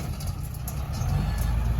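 A customized Kubota L5018 tractor engine idles with a steady, low, throaty rumble, constant and fairly close, with no voices over it.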